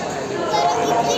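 Dense crowd chatter fills a busy railway station, a steady wash of many overlapping voices at close range with no single speaker standing out.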